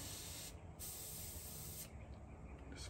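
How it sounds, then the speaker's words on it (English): A paint spray gun with a fine tip hisses out black paint onto a bluegill fishing lure, a steady close airy spray broken by two brief pauses. "Just fix my tip so it'll spray fine."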